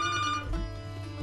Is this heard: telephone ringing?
yes